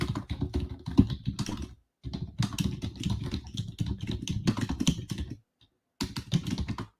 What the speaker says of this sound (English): I'll be typing our key levels here in a second.